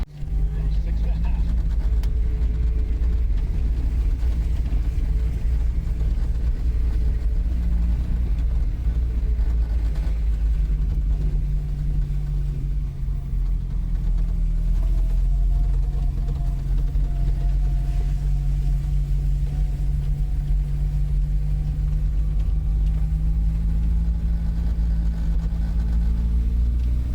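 A 1971 Vauxhall Firenza with a four-speed gearbox drives through a park, its steady engine drone and road rumble heard from inside the car, constant and moderately loud throughout.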